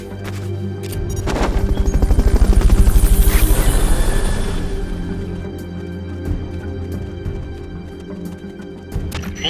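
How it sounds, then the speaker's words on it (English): Helicopter from the Fulton recovery sequence in Metal Gear Solid: Peace Walker, a loud rhythmic rotor thump that swells to a peak and then fades, with gunfire-like bursts mixed in. "Fulton recovery helicopter is complete."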